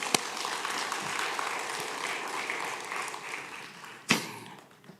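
A church congregation applauds during a Korean revival service, steady crowd clapping filling the room, with a couple of loud thumps near the start and toward the end.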